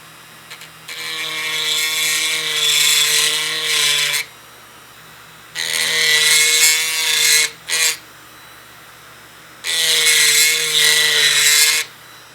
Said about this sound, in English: Before I finish grinding out those holes